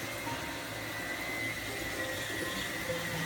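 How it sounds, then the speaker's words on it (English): A vacuum cleaner runs nearby with a steady, unbroken broadband whoosh and drone that stays at an even level for the whole stretch, with no talking. "hey, turn the vacuum off."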